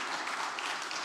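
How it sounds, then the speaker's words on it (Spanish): Steady crowd applause at a church sermon fills the space, a dense wash of many hands clapping at an even level throughout. "Le dan un aplauso al Señor"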